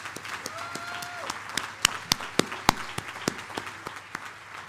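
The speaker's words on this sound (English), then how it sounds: "Let's give them a big round of applause." Applause from a modest audience, individual hand claps clearly audible and uneven, with faint background tones underneath.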